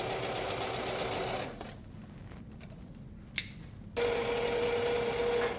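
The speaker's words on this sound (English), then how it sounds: "sew the bandanas together. Start your first stitch right where the seams on your channels meet up. So sew, reverse, then just sew right along." Domestic sewing machine stitching two cotton bandanas together into a drawstring bag, running in steady close bursts with a short pause in the middle.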